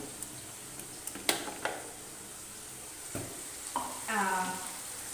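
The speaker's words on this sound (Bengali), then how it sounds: "এখানে আমি দেড়টা মতন টমেটো ভাজা করছি" Tomatoes fry softly in a pan for a goat-meat and potato curry, a quiet sizzle broken by a few sharp utensil clicks and scrapes against the pan.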